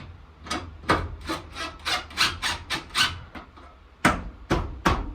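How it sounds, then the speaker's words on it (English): A self-tapping screw being driven into a vehicle B-pillar trim piece, heard as a series of rasping, grinding bursts with short pauses between them, close and moderately loud, no voices. "we're going to go ahead and just go in with a self-tapper."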